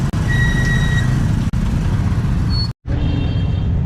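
Road traffic in San Isidro, where a truck's reversing alarm gives several high, steady beeps over a loud engine rumble close by, broken by a sharp click and a brief dropout.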